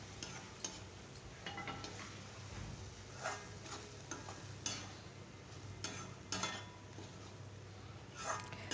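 Scrambled egg masala is stirred in a pan on a slow flame, with a faint background sizzle broken by repeated soft scrapes and clinks of the spoon against the pan.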